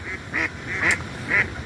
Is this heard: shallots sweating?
no